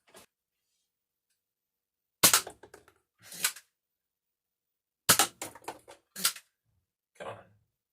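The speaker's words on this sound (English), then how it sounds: "I'm going to be shooting at this target from 15 feet away. First with Elite darts" Nerf Elite 2.0 Prospect QS-4 blaster firing Elite darts at a target 15 feet away: sharp, loud snapping pops, two spaced shots and then a quick cluster of several more, each with short rattling priming clicks between.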